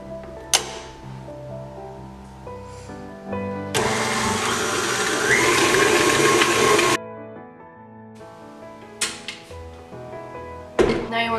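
An electric mixer with a whisk attachment whirs loudly and steadily through snowball cookie batter for a few seconds, then cuts off, with clunks and knocks around it.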